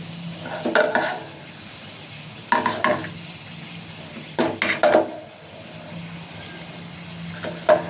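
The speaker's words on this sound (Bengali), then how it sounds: "এরকম করে ভাজতে দিয়ে দিলাম" Food frying in a pan, a low continuous sizzle with bursts of scraping and clattering as it is pressed and turned, heard close up in several separate clusters with no speech.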